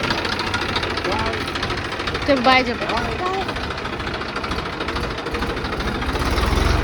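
A tractor engine idles close by in a village, a steady low rumbling knock running throughout while an adult speaks to a child over it.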